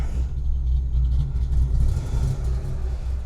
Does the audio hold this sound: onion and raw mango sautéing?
no